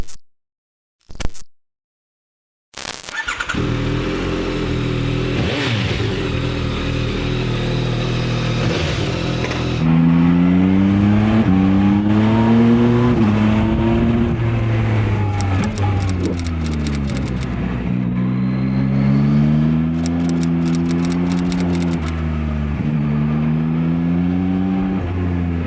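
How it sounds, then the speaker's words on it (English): A Yamaha XSR 900 triple-cylinder motorcycle rides on roads in Gran Canaria, its engine note rising and falling through the gears with loud, close, sustained revving after a few brief opening knocks, and no talking. "that feeling and that sound of a triple"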